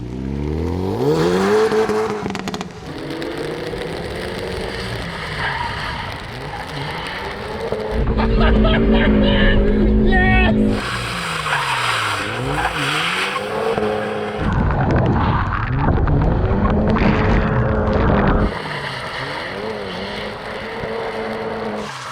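Hyundai Veloster front-wheel-drive car revving hard and sliding, engine roaring with bursts of tire squeal across a long sustained run, loud and close, with voices talking over parts of it.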